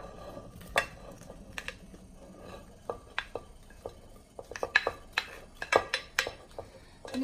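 Roasted chilies pounded in a mortar for an Isaan-style sauce give sharp, irregular knocks and clinks that start sparse and grow into a quicker run of close, crisp strikes.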